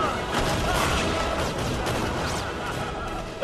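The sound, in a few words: big explosion in V for Vendetta film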